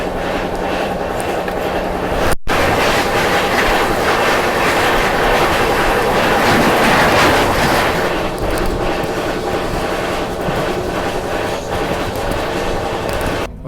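A double-decker express train on the Bhusawal–Surat route to Ahmedabad rolls along the rails with a loud, steady rumble and rhythmic clickety-clack, heard close from onboard and continuous throughout, with a brief dropout early on.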